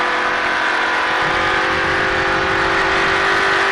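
A race car engine at Charlotte Motor Speedway rises in pitch as the throttle opens, loud, steady and close, with wind rush over a continuous roar.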